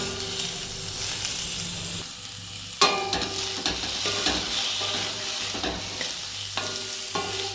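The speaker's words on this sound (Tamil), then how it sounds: "அதேமாரி இதை ஸ்லோ ஃபயரில் வச்சு தான் நல்லா வதக்கணும்" A coconut and tomato masala for Chettinad fish kulambu sautés over a slow flame. Its constant hiss of sizzling is broken by scraping stirs and one sharp clack partway through, with no voices.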